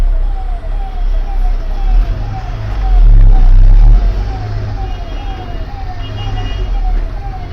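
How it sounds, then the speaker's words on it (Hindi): A police car siren wails in repeated rising sweeps through a traffic jam in Meghalaya, loud over heavy engine rumble and road noise, with a deeper low engine surge partway through. "मेरे को लगता है कोई पुलिस की गाड़ी होगी।"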